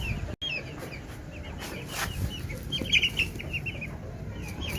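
Chickens around a farmyard, a mother hen with three chicks, giving soft intermittent clucks and high chick peeps over a low background rumble, with a brief dropout early on.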